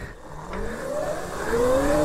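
An electric mini dirt bike runs at full throttle, its motor whine rising steadily in pitch as it accelerates, loud and continuous with a higher harmonic climbing alongside the main tone.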